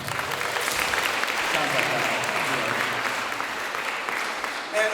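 Applause from an audience at a staff talent show, a dense, steady roar of clapping that holds throughout, with a brief spoken voice near the end.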